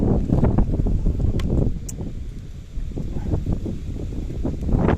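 Strong gusting wind buffets the microphone while fishing, a steady low roar with rustling bursts, loud and close, with no clear speech.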